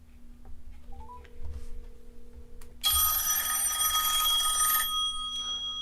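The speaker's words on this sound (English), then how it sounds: "Now to demonstrate the home button, I'm going to make a phone call." An outgoing call on a smartphone: a few soft dial tones, then a loud, steady electronic ringing tone for about two seconds, alone with no talking.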